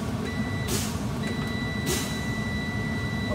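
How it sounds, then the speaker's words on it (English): A truck's low-air warning buzzer, triggered at 70 PSI during an air brake test, drones steady and high-pitched over a rumbling engine idle, with two short bursts of hissing air. "my low air warning light and buzzer activated at 70 PSI"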